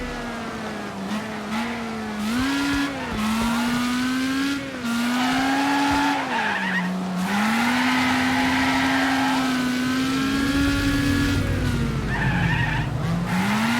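A car driving in a video game, a steady engine drone that rises and falls with gear changes, overlaid by long wavering tire squeals and skids, loud and close throughout.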